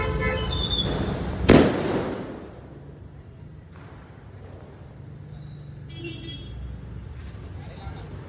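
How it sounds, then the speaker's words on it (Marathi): One Diwali firecracker bursts loudly and sharply near the start, then a lingering rumble and street background follow, with a few faint crackles further off. "आज जरा बरं वाटते मस्त फटाके वगैरे फोडायला"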